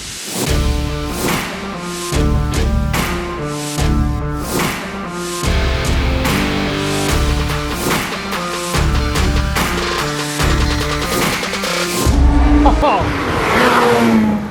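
The 62-2 car's engine roars loudly and steadily as it is driven hard in Arizona heat during high-speed testing with an F1 driver, with rising revs broken by repeated gear shifts.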